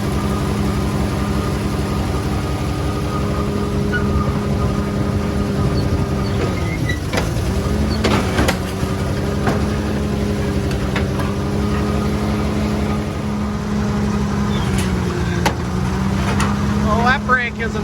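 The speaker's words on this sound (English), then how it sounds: "There the machinery's going." Old machinery running at an antique power show, with a steady low engine drone and hum throughout, mechanical clanks and a brief pitch dip as the load changes, close and loud, with people talking over it.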